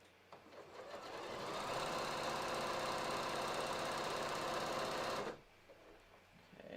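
A sewing machine stitches with SeraFlex thread, running in one steady, loud mechanical whir for about five seconds before stopping abruptly, leaving quiet room tone.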